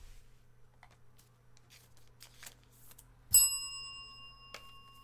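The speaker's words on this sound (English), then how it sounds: "That was an accidental bell ring" A single bright bell rings by accident during a basketball trading card case break, one sharp ding that hangs and slowly fades after some faint handling rustles.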